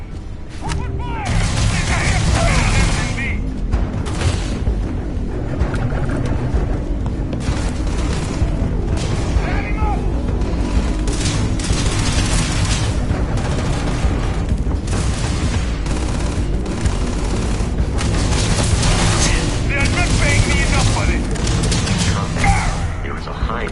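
Dense, loud gunfire and booming explosions from a firefight in the sci-fi game Starfield, with rapid bursts and heavy thuds layered continuously throughout.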